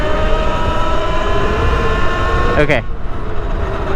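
A Talaria Sting electric dirt bike in power mode 4 accelerates at full throttle, a rising electric motor whine over heavy wind rush, loud and close, with a brief spoken word from the rider.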